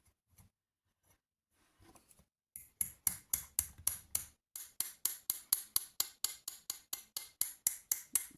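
A hammer striking copper wire while shaping a Viking penannular brooch: a few scattered taps, then a long run of sharp, bright metallic blows in a steady, even rhythm, close and clear with no talking.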